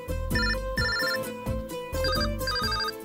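A mobile phone ringtone for an incoming call plays loud and alone, a repeating electronic melody in two matching phrases with steady beat-like pulses underneath.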